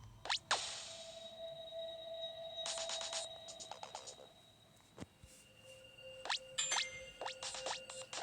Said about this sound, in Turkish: Zil sesi.